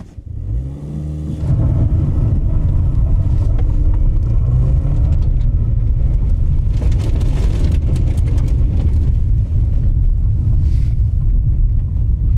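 A 2007 Toyota Corolla engine revs hard while driving through deep water that churns and sloshes loudly around it, a constant heavy wash of noise after a short quieter start.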